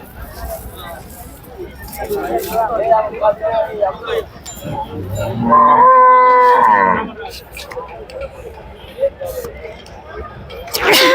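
Cows, including heavy milking cows, moo loudly at a cattle market in Sardar Nagar, one long low bellow standing out, amid a busy background of crowd chatter and other animal calls.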